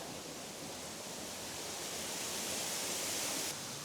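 A waterfall beneath icicles in a snowy winter landscape, a steady dense rushing roar of falling water, even and unbroken, fairly close and heard alone.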